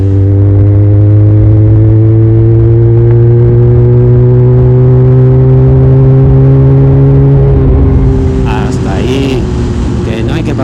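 A motorcycle fitted with a Leonart Pilder exhaust, 125 or 400 cc, holds a loud close engine drone that rises slowly in pitch under sustained revs, then drops and clatters near the end.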